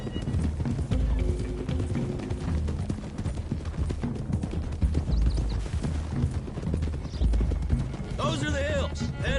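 Hooves clip-clop rapidly as several horses run, with a horse whinnying near the end, all set against a busy mix from the video game Red Dead Redemption 2.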